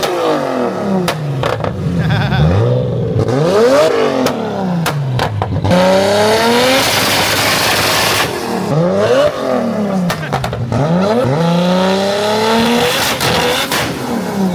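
A Nissan R33 GT-R sedan's engine revs up and down repeatedly while doing skids, with bursts of screeching tire squeal during hard acceleration, loud and close.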